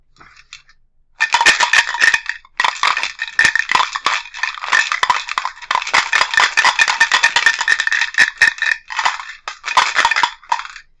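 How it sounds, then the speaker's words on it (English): Dice shaken hard in a cup during a game, a dense continuous rattle of clacking cubes lasting about ten seconds with brief pauses, loud and close with no voices. "It was dice, shaking dice in a game."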